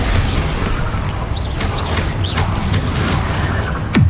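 A Confringo spell explosion in Hogwarts Legacy bursts with a sharp, loud boom near the end, set against a steady rumbling roar of spell combat and a few short whooshing effects.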